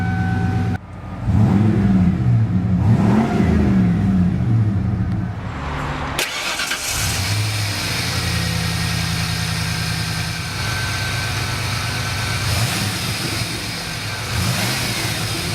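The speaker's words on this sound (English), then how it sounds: "Beautiful exhaust note." 1994 Ford F-150 XLT with the 5.0 V8 and 69,000 original miles cranks and fires, revs up a few times with rising and falling engine tones, then settles into a steady, rumbling idle from the exhaust.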